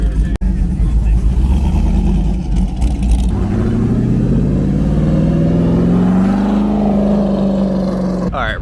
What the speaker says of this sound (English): the LS swapped 911. Yep, got an LS3 in there